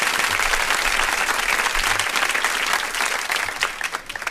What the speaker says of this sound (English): I want to give you a round of applause for the State of the Black World Conference in Newark